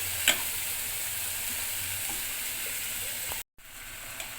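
Spice masala for a sour-yogurt chicken curry sizzles and fries in oil as a spoon stirs it, giving a steady hiss with a sharp scrape near the start, soft clinks, and a brief cut just past three seconds.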